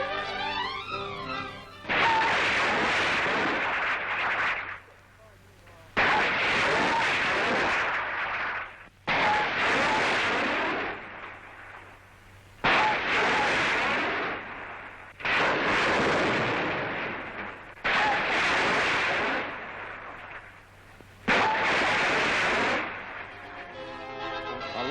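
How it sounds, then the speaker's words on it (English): A rapid-fire launcher shooting two 5-inch rockets in salvo, heard as a string of seven long, loud roaring rocket blasts, each lasting a couple of seconds with brief gaps between, and no talking. "Shooting two 5-inch rockets in salvo, the apparatus can be accurately aimed and reloaded without delay from below."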